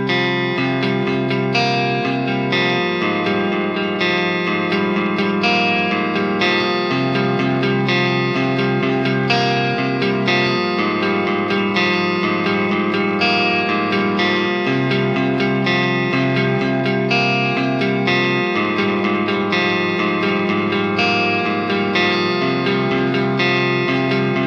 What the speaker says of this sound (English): we had the wah sort of sitting half open with the frequency settings a little bit screwed up just to get that really weird tone